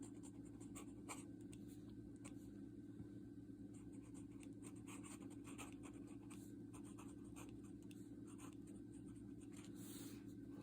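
A dip pen scratches steadily across heavy 32-pound paper, a close, continuous fine scraping with small rhythmic strokes throughout, over a faint background hum and no speech.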